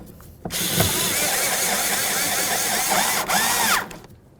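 A power tool drives a 10mm headed bolt while a window regulator is mounted in an 08-12 Jeep Liberty door, one steady whirring run of about three seconds with a short pause and a final burst, loud and close with no talk.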